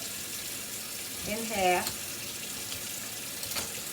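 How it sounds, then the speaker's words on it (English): Tap water runs into a bowl in a home kitchen, a brief close splashing burst rising in pitch as it fills, under a steady hiss, with a person speaking briefly. "I'm going to fill this bowl with water."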